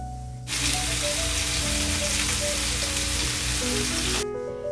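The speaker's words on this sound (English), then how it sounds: "sear the scallops for 2 minutes on each side until they turn crispy" Scallops sear in a hot pan, giving a loud, dense, continuous sizzle that starts abruptly and cuts off near the end, with soft tonal music underneath.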